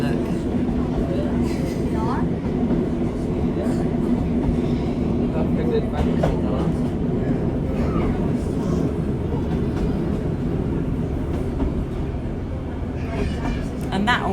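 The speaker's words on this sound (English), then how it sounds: "Train goes through the river." Passenger train on the Looe Valley Line rolling across a river, a steady loud rumble of wheels and carriage noise throughout with faint voices beneath.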